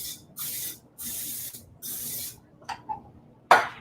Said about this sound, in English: I'm going to spray it with spray oil.